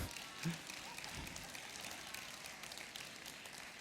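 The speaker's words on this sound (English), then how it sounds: "I'm seeing too many men clapping" Audience clapping at a Sunday service, a dense, soft spatter of applause from a crowd, fairly distant and steady throughout.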